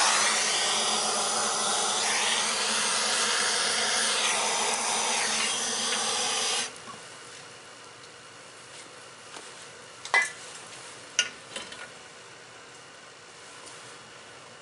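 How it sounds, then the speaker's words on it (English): A self-starting torch fires up to light kindling in a double barrel wood stove in a shop, giving a loud, steady roaring hiss for several seconds that cuts off abruptly, followed by a few faint clicks and knocks. "And I'm going to use this self-starting torch"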